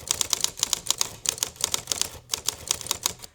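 Typewriter typing sound effect used for an animated text effect in Adobe Premiere: a quick, steady run of crisp mechanical key clacks, close and clear, with brief pauses between bursts.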